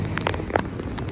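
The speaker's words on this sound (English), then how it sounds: "it's raining pretty hard." Heavy rain falls steadily on a tropical beach during a typhoon-season storm, a dense close hiss of drops with no talk over it.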